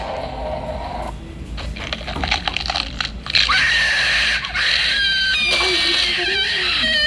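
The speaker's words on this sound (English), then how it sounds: "That scream was so loud, my ears were kind of bleeding." A loud, sustained shrill scream from a video game rises and holds for several seconds over the game's rumbling background, with a second wavering cry near the end and a person briefly exclaiming before it.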